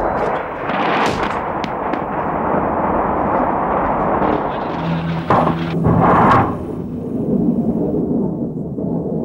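Heavy 1,000-pound laser-guided bombs striking antennae, loud booming blasts and rumbling detonations with a sharp crack early on and heavier impacts near the middle, continuous and close.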